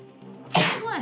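A single sharp sneeze bursts out about halfway through, loud and close, against a quiet steady hum from a tabletop game session.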